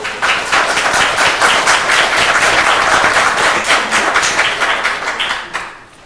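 An audience at a public meeting breaks into steady, loud applause that carries on for several seconds, then fades out.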